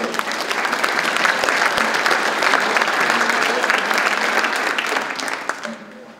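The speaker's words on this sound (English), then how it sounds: "Let's give our sponsors a round of applause" A banquet audience applauds the event's sponsors with a steady, dense wash of clapping that holds at full strength for about six seconds, then thins and fades away at the end.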